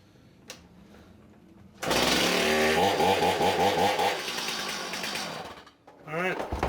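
Stihl chainsaw being pull-started after a pull cord repair: a quiet scrape, then the engine catches and roars loudly and steadily for several seconds before dropping off, with a brief rev near the end.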